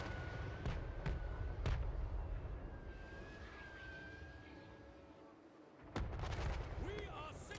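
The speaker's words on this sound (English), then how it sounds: "I love how you can hear the thud of the guns" Artillery guns thud during a Total War Warhammer III battle, a few sharp reports spaced apart over a busy low battlefield rumble, with a louder burst of blasts near the end and game voices speaking.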